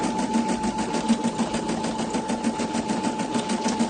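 An embroidery machine stitches out a design in a fast, even, continuous mechanical rhythm, its needle thumping steadily throughout at moderate volume.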